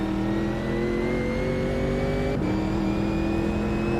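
A race car engine in the racing game Automobilista 2 on the Melbourne circuit holds a loud, steady whine, then its pitch drops sharply midway as the car brakes hard, with no talking.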